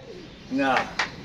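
A pigeon gives a short throaty coo close by, followed by a brief sharper sound, in a quiet space.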